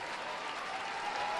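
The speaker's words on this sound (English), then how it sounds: "So Zerboni will get a nice ovation" Steady applause from a stadium crowd at a Portland Thorns FC versus Western New York Flash women's soccer match, an ovation for a substituted player, dense even clapping heard from a distance throughout the brief moment.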